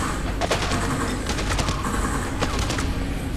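Rapid gunfire while shooting zombies in Dead Rising, a steady crackle of many shots under a constant game background, fairly quiet and with no talk over it.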